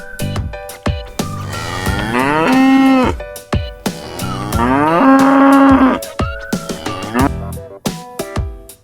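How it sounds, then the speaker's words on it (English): A cow moos twice in long, loud, drawn-out calls, with shorter lowing sounds and sharp clicks around them, and no talking. "Cow says moo moo."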